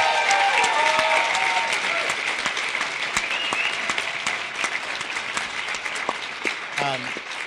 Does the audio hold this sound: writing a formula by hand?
no